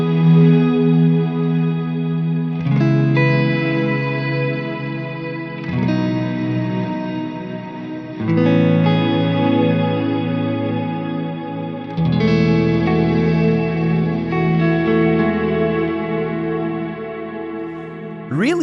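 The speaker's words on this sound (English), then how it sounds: "let's try the 2 reverbs at the same time" Sustained electric guitar chords run through two reverbs on a Strymon BigSky MX, a reverse reverb feeding a cloud setting. Each chord swells into a long, shimmering wash, with a new chord struck every few seconds.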